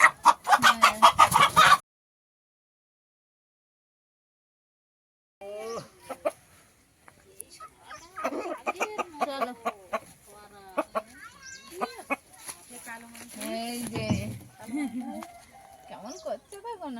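A desi rooster clucks inside a cage, a burst of sharp close clucks at the start, then after a pause a stretch of clucking mixed with people talking nearby.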